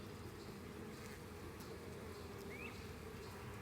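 Honeybees, female workers, buzzing around an open hive during an inspection; a continuous, soft, dense hum with a few brief nearer wingbeat passes rising above it, no talking.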